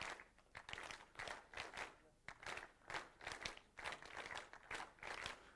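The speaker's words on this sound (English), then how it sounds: "clap, you know, the famous part from that song on 3" A conference audience claps together in a rhythmic pattern, tapping out the familiar Wedding March tune in repeated short groups of claps, fairly faint and distant with no talking over it.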